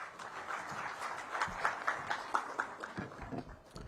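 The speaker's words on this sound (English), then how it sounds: "Please welcome with a round of applause" Light applause greets a speaker at a government launch event for a car assessment program, quiet and thin, with scattered claps that soften toward the end.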